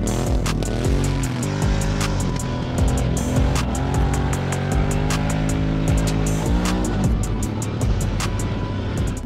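A go-kart driving a lap on a track, its engine droning loud and close with rising and falling revs as it works through corners, steady throughout with no voices.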